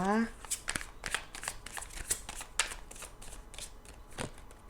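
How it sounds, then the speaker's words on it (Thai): Tarot cards shuffled, flipped and laid down for a reading, giving a string of crisp snaps and soft slaps at close range while someone speaks throughout. "แม่มดจะขอเปิดไพ่นะคะ เพื่อดูพลังงานในฝั่งของตัวคุณก่อนนะคะ"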